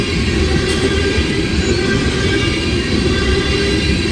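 A CSX B773 freight train passing steadily at close range through Woodbine, heading toward Baltimore, its wheels rolling and rumbling continuously with a faint clatter from the railcars and no voices.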